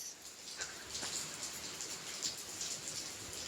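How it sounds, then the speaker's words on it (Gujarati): Soft, constant hiss of light rain falling at a distance, gentle and even throughout. "હવે વરસાદ થઈ ગઈ છે સ્લો"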